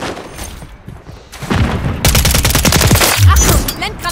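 Rapid automatic gunfire bursts loud and close in the first-person shooter Call of Duty: Modern Warfare 3, with a heavy boom near the end over dense battlefield noise.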